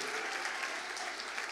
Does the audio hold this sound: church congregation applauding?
yes